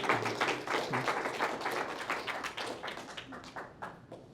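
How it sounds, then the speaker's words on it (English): An audience claps for a small boy dressed as a fully equipped soldier at a VE Day 80th anniversary presentation, a scattered round of applause of uneven, moderately near claps lasting several seconds. "Round of applause for the soldier."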